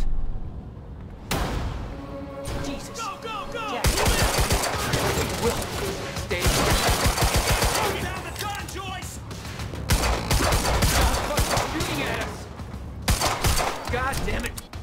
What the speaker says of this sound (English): target's armed. Opening fire!